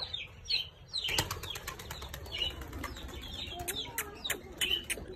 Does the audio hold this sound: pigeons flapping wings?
yes